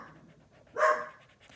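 A dog lying on her bed at home lets out a single short, sharp bark, close and moderately loud, amid otherwise quiet indoor sounds.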